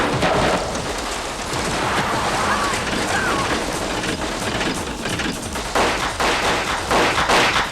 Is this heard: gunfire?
yes